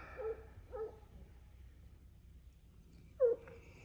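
A dog barks outdoors in a garden on a calm day, two quick barks followed by a pause and a single louder bark, moderately distant with quiet ambience between.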